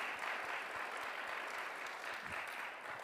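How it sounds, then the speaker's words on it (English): Sustained audience applause at a Disability Awareness Month kick-off event, a steady, even wash of many hands clapping throughout. "special round of applause."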